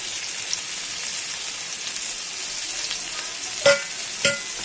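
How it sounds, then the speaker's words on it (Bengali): Garlic and green chilies frying in a pan for a mashed bharta dish, a steady close sizzle with two sharp clacks of a utensil stirring near the end. "রসুনটা একটুখানি নেড়ে নেবো, দিয়ে দিলাম রসুন কাঁচা লঙ্কাটা এর মধ্যে দিয়ে দিলাম"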